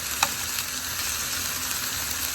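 Spiced meatballs for albondigas soup searing in a hot pan give off a constant close sizzle with a brief sharp pop near the start.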